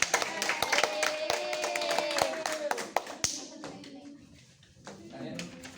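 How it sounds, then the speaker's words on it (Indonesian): A class of schoolchildren claps in applause, a dense patter of hand claps over classroom chatter and a teacher's voice, fading toward the end. "kasih tepuk tangan untuk"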